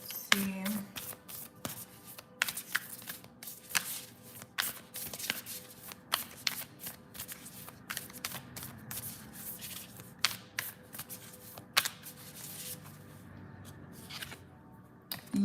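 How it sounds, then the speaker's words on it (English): Love cards for a psychic tarot-style reading are shuffled and handled close up, with a continuous riffling and flicking of card stock and frequent sharp snaps, while someone talks over it. "I'm going to pull one of these love cards."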